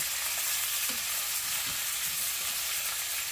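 Onions frying in a pan, a steady bright sizzle and hiss throughout, with faint stirring bumps underneath and no voices.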